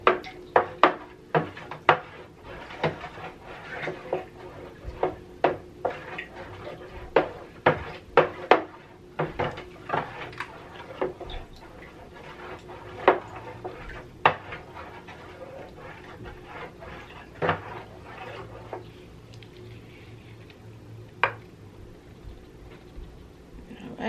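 Tower Garden refill nutrient solution being stirred, with irregular sharp knocks and clicks against the container, some close and loud, others softer, spread across a quiet background.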